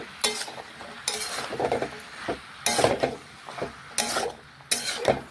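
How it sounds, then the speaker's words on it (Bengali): Bottle gourd stirred with spices in a pan, cooked with fish oil: sharp scraping and knocking strokes in regular bursts over a faint sizzle, close and clear with no voices. "এখন আমি নাড়াচাড়া করে লাউটা মশলার সাথে ভালোভাবে মিশিয়ে নেব।"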